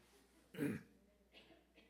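A single throat-clearing cough, short and fairly close, followed by faint rustling in a quiet room during a Friday evening church prayer service.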